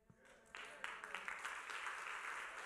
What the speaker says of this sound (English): Come on, keep on clapping.